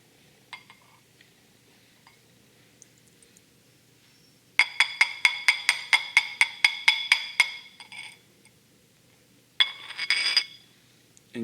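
A glass baby food jar, used as an engine catch can, is handled up close, giving a quick run of about a dozen bright clinks and taps, then a short rattling burst after a pause.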